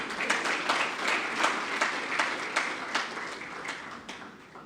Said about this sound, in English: let's clap for these two ladies.